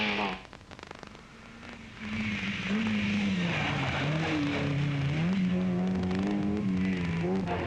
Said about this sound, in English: Americo Campos and the Team Vespa's Golf GTI were holding up well on the tarmac mountain roads.